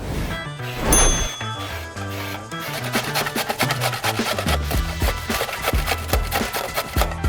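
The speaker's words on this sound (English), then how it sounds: "I'm gonna grate these now. So I'm gonna make a fine grating here, which will take off some of the brown." Food is rubbed against a fine hand grater in quick, steady rasping strokes, close and fairly loud, with a knock or two of handling near the start.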